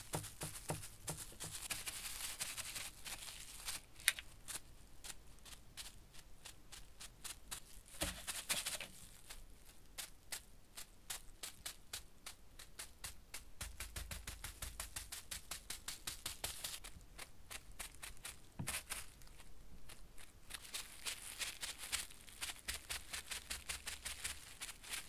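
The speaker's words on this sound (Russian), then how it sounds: "Создаем интересную фактуру. Внимание. С помощью целлофанового пакетика." A crumpled cellophane bag dabbed repeatedly onto wet paint to build texture: close, quiet crinkly taps in quick uneven runs, with brief pauses and no talking.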